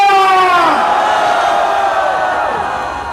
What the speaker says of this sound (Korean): 다시 한번 큰 환호 부탁드립니다.